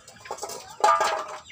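A native chicken clucks a few times close by, soft at first and then a louder burst of clucks.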